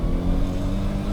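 A turbocharged classic Mini Cooper accelerating hard, giving a brief, steady, loud engine drone heard from inside the car.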